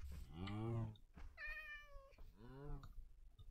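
A Minecraft cat meows three times in a row, the calls evenly spaced, moderately loud and close, with quiet game ambience between them.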